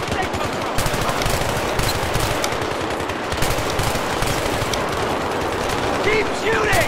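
Sustained automatic gunfire from the Battlefield 3 video game, rapid dense bursts rattling continuously for about seven seconds with scattered louder shots and faint voices in the background.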